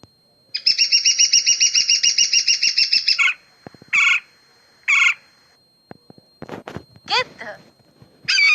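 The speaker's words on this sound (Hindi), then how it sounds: "कठफोड़वा" A woodpecker gives a rapid, repeated trilling call, then several separate sharp calls and chirps. It is clear and close, with no talking.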